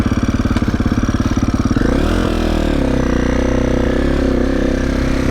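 A KTM SX-F 450 dirt bike, said to need a top-end rebuild and to have a squealing noise, idles with a loud, rapid chugging pulse, then revs up into a higher, steady roar that holds close by.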